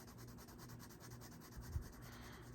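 Colored pencil scratching across paper in quick, faint rubbing strokes, soft and close with a quiet background and no talk.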